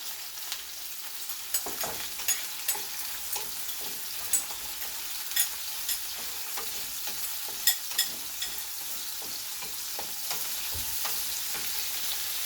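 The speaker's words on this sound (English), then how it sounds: "You want to fry the shrimp." Shrimp frying in a wok for shrimp fried rice, a continuous sizzle broken by regular sharp scrapes and taps of a spatula as the pieces are stirred, close and clear with no voices.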